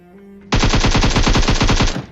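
Automatic gunfire in PUBG Mobile rattles out as one loud, close burst of rapid, evenly spaced shots lasting about a second and a half.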